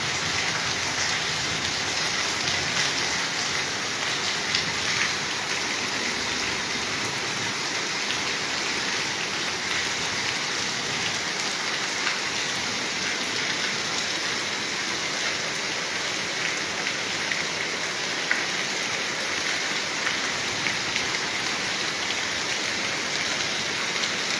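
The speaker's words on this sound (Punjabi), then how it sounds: "ਮੀਂਹ ਵਾਵਾ ਹੈ ਨਾ ਵਾਵਾ ਮੀਂਹ ਵਧੀਆ ਹੁਣ" Heavy, steady first monsoon rain pours down continuously in a Malwa village in Punjab, a dense hiss of drops with no voices and no letup.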